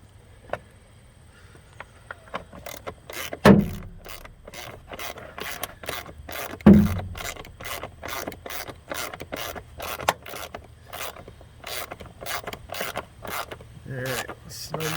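Ratchet loosening screws on a Jeep Renegade air filter housing, rapid repeated clicking in steady bursts close by, with a couple of louder knocks along the way.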